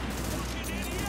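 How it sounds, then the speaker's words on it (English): Rapid bursts of automatic gunfire in a co-op match of Tom Clancy's The Division, dense and continuous for a moment, with a player talking over the shooting. "Oh shit, I'm getting shot from the side."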